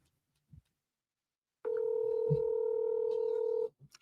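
A telephone call is placed: after a faint click, a steady telephone tone sounds loud and close for about two seconds, then stops.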